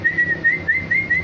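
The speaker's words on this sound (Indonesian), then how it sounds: "Ini namanya burung cicak rawobah." A cicak rawobah songbird from Kalimantan whistles a short run of clear, high, evenly spaced notes, close and loud, with some low background rumble underneath.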